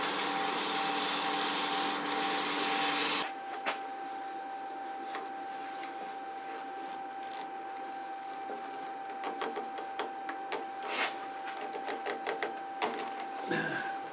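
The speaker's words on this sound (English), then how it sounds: "Hit that with some 500 grit." Palo Santo wood on a threaded box is rubbed with 500 grit sandpaper: a loud broadband whoosh for the first few seconds, then quieter steady scratchy rubbing with small knocks, close and alone.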